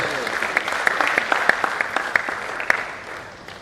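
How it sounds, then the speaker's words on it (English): An audience at a College of Medicine scientific conference plenary session gives a round of applause, steady overlapping claps that gradually taper off toward the end. "Please, let's give her another round of applause"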